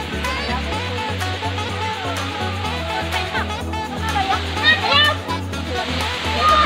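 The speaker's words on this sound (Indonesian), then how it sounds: "Di air terjun Pantai Pelang." A waterfall at Pelang Beach rushes in a steady broadband roar, with splashing and voices of adults and children talking over it throughout.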